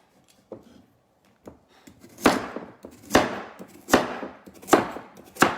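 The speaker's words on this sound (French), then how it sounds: "je vais commencer par découper mes carottes" Carrots chopped with a knife on a cutting board, a few light taps at first and then four loud, evenly spaced chops close by, with no voices.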